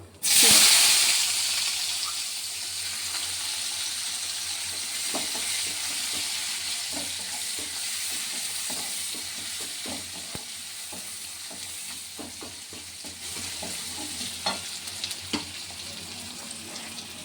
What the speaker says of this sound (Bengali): পেঁয়াজটা দিয়ে দিলাম। এটা ভাজা ভাজা হয়ে গেলে এতে কিছু মশলা অ্যাড করবো